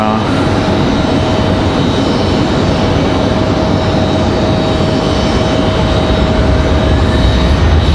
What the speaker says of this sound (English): This American 737 gets a move on.